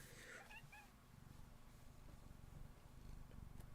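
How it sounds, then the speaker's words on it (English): Waffle the cat purrs right against a microphone, a close, continuous low rumble that pulses steadily and grows slightly louder, with a brief meow-like chirp at the start. "she's like purring into the mic."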